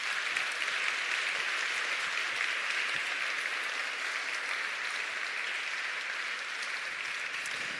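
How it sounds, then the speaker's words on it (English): Gala audience applause fills the room as a steady, dense wash of clapping at moderate level, holding evenly for several seconds with no talk over it. "a round of applause for your support"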